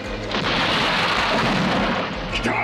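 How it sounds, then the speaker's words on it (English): An air attack in a Transformers cartoon rumbles as a dense, loud roar of blasts and booming explosions, rolling continuously for a few seconds. "Uh-oh, air attack."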